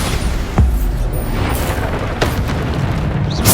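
Bombarda spell blasts from the Hogwarts Legacy video game, several deep booming explosions with a strong hit near 0.6 s and another around 2.2 s, set over a dense, continuous rumble of battle noise.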